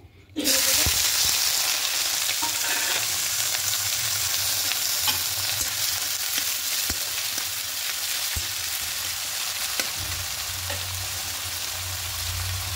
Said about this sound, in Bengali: কড়াইটা আগে থেকে বসিয়ে তেল দিয়ে দিয়েছি, তেলটা গরম হয়ে গেছে। এখানে পেঁয়াজ কুচি দিয়ে দেবো।